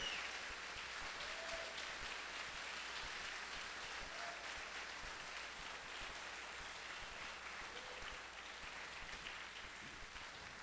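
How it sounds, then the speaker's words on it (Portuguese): Church congregation applauds for Jesus during a Portuguese-language worship service, a steady, hissing wash of clapping from a crowd that stays fairly faint and even throughout with no talk over it. "Quero que você dê um aplauso bem forte para Jesus"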